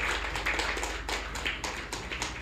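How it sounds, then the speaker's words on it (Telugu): A church congregation clapping hands together in praise during a Telugu sermon, a continuous moderately loud patter of many hands with no speech over it. "గట్టిగా చప్పట్లు కొట్టి ప్రభుని స్తుతిద్దామైన సన్నిధిలో"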